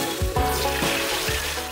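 Tilapia fish fries until crispy in hot oil at an Indonesian food stall, giving a loud, dense, steady sizzle with a few bubbling bursts close by.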